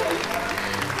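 A studio audience claps steadily through a Vietnamese TV singing show, a dense, even wash of applause that fills the moment without a break.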